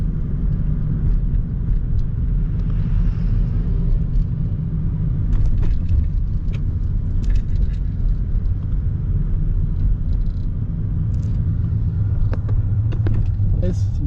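Steady low rumble of a car driving through downtown Detroit, heard from inside the cabin, constant road and engine noise with faint scattered clicks throughout.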